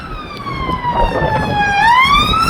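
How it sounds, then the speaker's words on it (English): A loud police siren from a police dog unit sweeps down and then back up in pitch, close by in St Austell, over the rumble of road noise. "Oh, I hear another siren."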